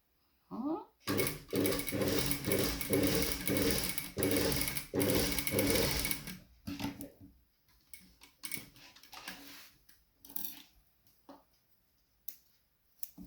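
A sewing machine stitching bias binding in the ditch runs in a loud, steady mechanical whir with a rapid needle beat for about five seconds, then stops, followed by scattered handling clicks and brief bursts of machine noise.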